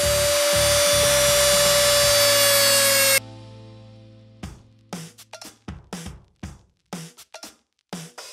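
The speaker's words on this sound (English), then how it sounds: "First, cut the collar out." A power tool cuts out the collar on a BMW differential, a loud high whining grind that stops abruptly, followed by a series of sharp metallic clanks and knocks close by.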